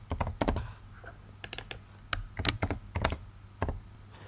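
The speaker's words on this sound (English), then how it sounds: "while I'm typing a new text here, new row is added here" Typing on a computer keyboard, quick irregular bursts of crisp key clicks with short pauses between runs, close and clear with no talking.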